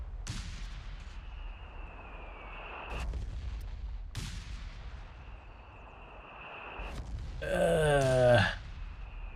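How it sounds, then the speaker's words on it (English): Artillery shells land with heavy booming impacts in the Company of Heroes 3 strategy game, two big blasts with long rumbling tails and a whistling, groaning descending sound near the end, loud and without speech. "See how long it takes before a shell will land."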